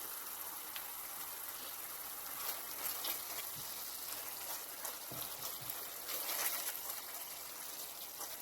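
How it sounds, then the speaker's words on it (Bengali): Ground spice mix sautéing in a pan for pointed gourd with shrimp, a steady, soft crackling sizzle with faint scattered pops that holds throughout, quiet and with no voices. "মশলাটা কষিয়ে নিলাম।"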